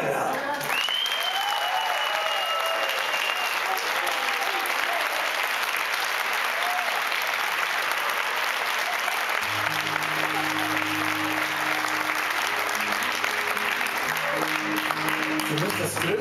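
Concert audience gives sustained applause for the singer, a loud, steady roar of clapping throughout, with a few brief instrument or voice tones rising over it and low tones joining midway.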